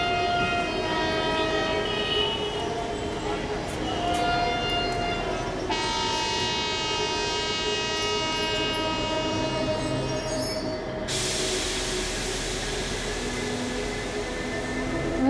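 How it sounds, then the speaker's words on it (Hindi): A train's whistle blows long and loud over the continuous rumble and clatter of the moving train, its tone shifting in pitch partway through. "तभी ट्रेन ने सीटी दी।"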